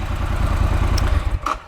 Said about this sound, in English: if I crank it now, triumph, clutch in, it'll start